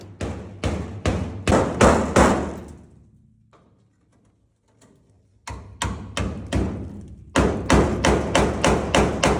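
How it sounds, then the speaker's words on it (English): Rapid, sharp hammer strikes on a narrow chisel chipping seam sealer from a car body's steel cab, coming in quick bursts of ringing metallic thuds, a pause of near-silence, then more fast, loud strikes close by. "we got the seam sealer out with a narrow chisel and a hammer"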